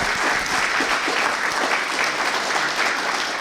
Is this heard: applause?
yes